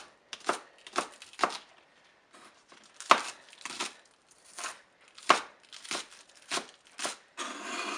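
A knife chops green onions on a cutting board for peanut noodles in sharp, separate knocks, some in quick bursts and some spaced out, close and clear with no voices.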